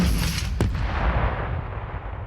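Gunfire from the battle royale video game Super People: a sharp nearby shot stands out within a dense wash of distant rattling fire and booms, with no talking.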